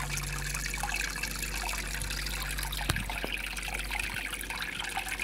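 Water pouring steadily from a double cascade aquarium filter, a continuous broadband trickle and splash at close range with no talk, the flow sounding slightly stronger as the pump moves more water.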